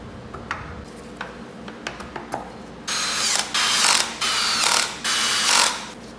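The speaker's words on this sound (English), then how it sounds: "these just get torqued down to 10 Newton meters" Ratchet wrench tightening oil return pump bolts on a Porsche M96 engine from a 987 Boxster: a few separate sharp clicks, then four loud, close bursts of rapid ratcheting with short pauses between.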